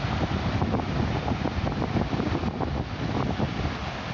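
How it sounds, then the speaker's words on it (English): Sea water surging between rocks at Paramporth Beach, a continuous broadband rush and wash with wind buffeting the microphone, steady and fairly loud throughout. "Surge of water coming between the rocks."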